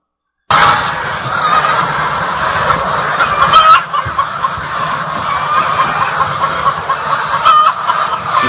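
Laying hens cluck inside a poultry barn with nest boxes, a dense, steady chorus of many birds filling the space with overlapping calls.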